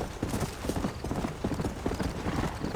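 A horse gallops in the Western video game Red Dead Redemption, its hooves pounding in a quick, continuous rhythm that stays close and loud throughout.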